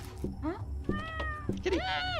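A cat meows several times in rising, drawn-out calls, fairly close, with a person talking over and between the meows.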